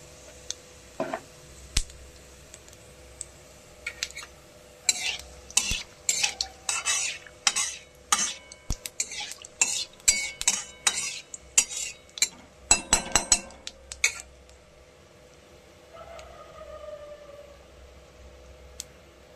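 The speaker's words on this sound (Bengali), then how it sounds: "এখানে জিরে, গোটা জিরে, শুকনো লঙ্কা, তেজপাতা ফোড়ন এই দেখুন দিয়ে দিলাম তেলের উপর।" Whole cumin, dried chillies and bay leaves go into hot oil, followed by a rapid run of sharp metal spoon scrapes and clanks against the pan, then a quieter spell with a faint sizzle.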